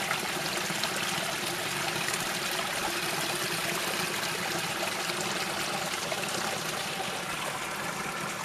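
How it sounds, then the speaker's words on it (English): Fast water pours and streams steadily through a well after heavy flooding, a loud, continuous, close rushing trickle with no talking. "I must just show you the amount of water that's flowing through the well."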